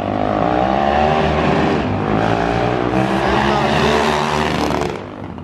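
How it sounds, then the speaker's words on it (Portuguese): A 330cc Maiki 021 motorcycle engine with an unadjusted carburetor revs loudly and steadily up close, its rough, buzzing roar rising and falling slightly throughout before easing off at the end. "a motinha faz barulho, hein?"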